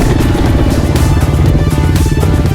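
Honda CRF110 pit bike fitted with a 147cc big bore kit and fuel injection, riding with a loud, continuous engine drone and steady throttle, close up throughout.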